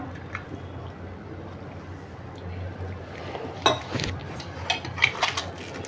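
A spoon stirs small prawn pakoda batter in a bowl, giving soft wet squishes and a few light clinks against the dish, close up and fairly quiet.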